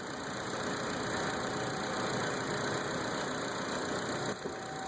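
A 2013 Chevrolet Cruze with the 1.4L engine idles steadily up close, a constant hum with faint high whine running evenly throughout and no talking.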